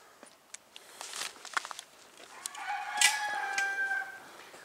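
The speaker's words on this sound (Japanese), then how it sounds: "ここ鶏もおるんかね、鶏がないとるぞ" A rooster crows at an animal park in Uda, one drawn-out crow rising out of quiet outdoor ambience, moderately distant and clear, with no talk over it.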